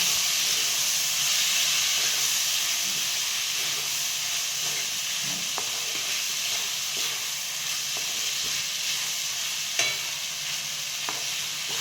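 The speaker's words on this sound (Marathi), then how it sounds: "आपल्याला परतून घ्यायचा डाळ कांदा" Dal and onions sauté in a pan with a loud, continuous hissing sizzle, broken now and then by soft ticks and scrapes of stirring. No voices are present.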